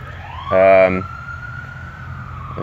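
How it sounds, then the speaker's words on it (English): A brief blaring horn blast over steady traffic rumble, followed by a rising siren tone sweeping through, moderately loud and nearby. "Here comes the ambulance"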